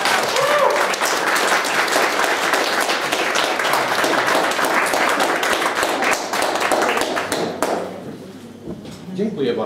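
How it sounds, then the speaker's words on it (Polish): Loud, sustained applause from a large crowd at a contest final, many hands clapping densely before thinning out near the end, with voices faintly mixed in. "Wielkie brawa"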